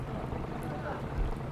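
A boat out on the water during a rescue search operation near Ankola, heard as a steady low rumble and wash of water with wind buffeting the microphone throughout.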